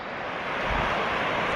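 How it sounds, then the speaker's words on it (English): Rushing water from a bubbling brook beside a roadside rest area on the E6 in Norway, a steady broad wash that swells slightly, heard alone. "We're at a wayside in Norway on E6 next to a bubbling brook."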